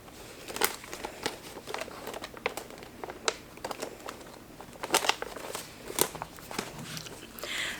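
A cash envelope pulled out of an accordion folder, close crinkling paper rustles and soft crackles with scattered louder snaps and no talking.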